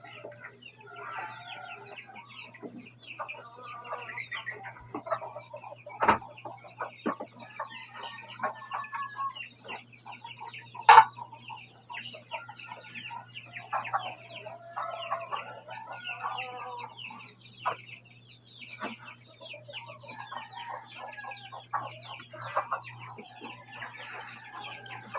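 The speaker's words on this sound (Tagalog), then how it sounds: "Napakain ng mga manok." Many chickens cluck and chatter continuously at close range, with scattered louder squawks breaking through the busy flock noise.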